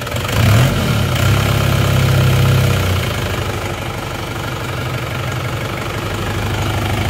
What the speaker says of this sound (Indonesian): Kalau suara mesin saya rasa ini tidak kasar dan timing juga tepat